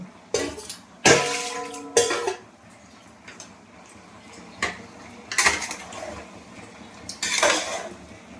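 A pot of chicken curry with bottle gourd being stirred, metal spoon clanking and scraping against the cooking pot in several sharp bursts, close and without talk.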